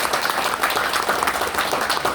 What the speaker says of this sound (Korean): 다시 박수 좀 부탁드리겠습니다